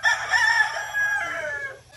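Kelso pullets in a coop give off a strong, drawn-out crowing call, loud and close, with clucking and fowl chatter layered underneath for about two seconds; no talking.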